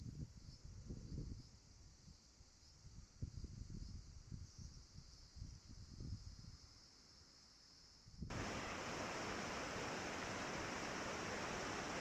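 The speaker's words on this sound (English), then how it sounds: "I enjoy the sound of rushing water." A clear mountain stream rushes in the summer forest, a broad roar of water that jumps suddenly louder partway through, with dull low thumps and a high insect drone underneath.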